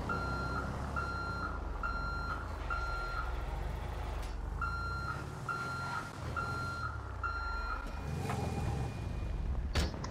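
A truck backs up with a steady, repeating high reversing beep over constant engine rumble, close and clear with no talking.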